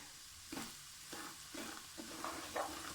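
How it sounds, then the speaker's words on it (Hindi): Semolina roasts in hot ghee on low heat for soji ka halwa, giving a faint, low sizzle broken by several soft scraping stirs spaced about half a second apart. "अब हमने इसमें 1 कटोरी जो सूजी थी वो डाल देनी है और इसको भून लेना है"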